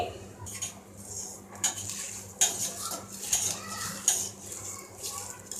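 Vada batter with chopped onion, green chili and ginger being mixed in a bowl, repeated clattering of a spoon against the vessel with soft wet stirring, close and irregular.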